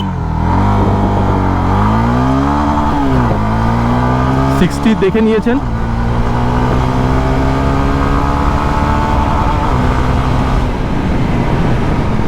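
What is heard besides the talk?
Honda CB300F motorcycle accelerating in first gear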